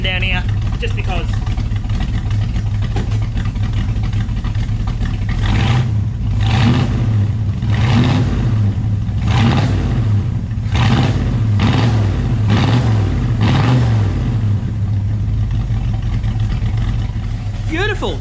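A Ford XW GT Falcon V8 with a Holley carburettor running close by, a steady lumpy idle broken by a series of sharp throttle blips and revs in the middle, while someone talks at times.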